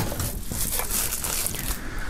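Plastic shrink-wrap foil is pulled off a sealed music album box set, giving a continuous close crinkling and crackling rustle over about two seconds with no talking.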